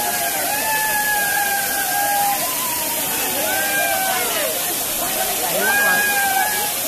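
A waterfall on a nature trek pours with a steady broadband rush, while people talk over it in drawn-out calls and voices throughout.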